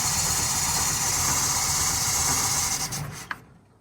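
A Standard Vanguard Phase 1 car engine runs smoothly at a steady idle, a continuous close rumble with a rasping edge that cuts off near the end, with no talking.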